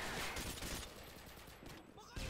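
Automatic AK-47 fire in a video game, dense overlapping shots in quick bursts filling the whole stretch, close and loud, with a brief lull before a final sharp burst.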